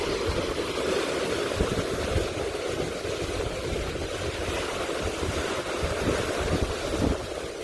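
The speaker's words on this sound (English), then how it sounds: "right now we have some waves coming in" Ocean waves rolling in at a beach in Barbados, a constant broad wash of surf mixed with wind buffeting the microphone, steady and fairly loud throughout with no speech.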